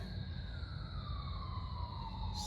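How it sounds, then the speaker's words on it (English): Emergency vehicle siren wailing in the distance, a steady rising and falling tone that holds throughout over a constant rumble of background noise. "sorry for the sirens"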